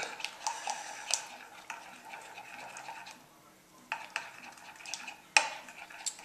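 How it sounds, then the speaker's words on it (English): A spoon stirs a warm, partly melted protein bar mixture with chocolate in a bowl, giving soft, close scraping strokes punctuated by a few sharp clinks against the dish. "we're going to mix this up a bit, just like so"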